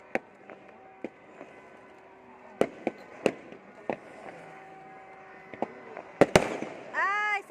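New Year's Eve fireworks seen from a rooftop crack and pop at a distance, with scattered sharp bursts over a low hum, a few louder bangs near the end, and people talking nearby.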